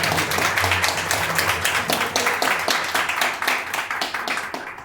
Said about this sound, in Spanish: un aplauso muy fuerte para María Antonia